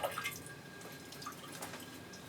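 Water trickles lightly onto the potting medium of a potted orchid, a soft steady wash of gentle dripping and splashing that continues throughout at close range.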